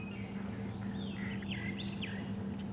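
Fork-tailed drongos chirp with sharp, whistled and sliding calls over a steady low rumble of a safari vehicle engine, the birds sounding at moderate distance.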